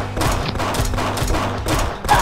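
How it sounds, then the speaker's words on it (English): Rapid pistol shots from Pixel Gun 3D, the PC edition shooter, crack in a fast, closely spaced string of loud bursts, dense and continuous with little pause between them. "I'm shooting with a pistol"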